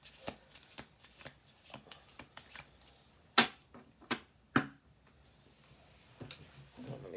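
Tarot cards being shuffled by hand at close range, a string of quick papery riffles and soft slaps with a few sharper card snaps, quiet and intermittent with brief pauses between bursts.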